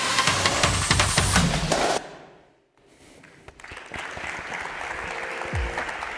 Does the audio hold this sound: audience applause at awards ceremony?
yes